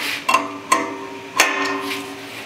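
A wrench snugging a high-strength steel bolt during a bolting inspection test, with three sharp metallic clicks spaced unevenly over a steady low hum, close and fairly loud.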